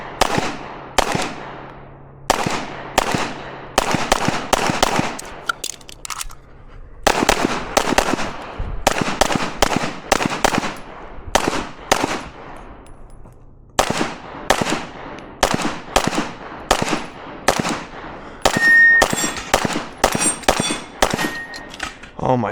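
Repeated gunshots at a shooting range practice session, fired in quick strings of sharp, loud cracks separated by short pauses, with a faint metallic ring near the end.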